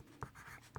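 A pen scratching across a sheet of paper in a short stroke, close and fairly quiet, with brief scrapes at the start and end.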